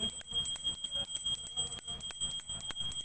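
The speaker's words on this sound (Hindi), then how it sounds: "घंटी बजाते हुए" A small hand bell rings continuously during a Hindu puja, a fast metallic jangle of repeated strokes with sustained high ringing tones, close and bright.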